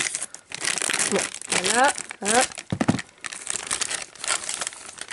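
Crinkling and tearing of the plastic wrapper on a McDonald's Pokémon toy being opened, close bursts of rustling under and between a French-speaking voice.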